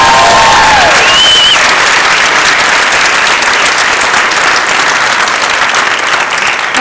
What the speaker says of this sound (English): we should give a round of applause to Leah Penniman.